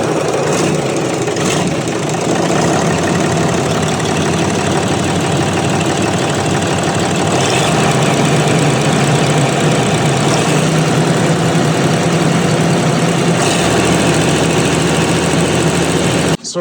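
The diesel engine of a 12,000-hour bulldozer idles at about 1600 RPM, a loud, steady close-up rumble that holds constant before cutting off abruptly at the end.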